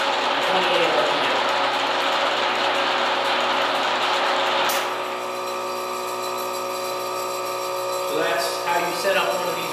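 A 1946 Induma horizontal mill, model UR-2, runs at its slowest speed of 28 RPM with a steady, loud mechanical whir and ticking gear noise. The pitch drops partway through, and a voice speaks near the end.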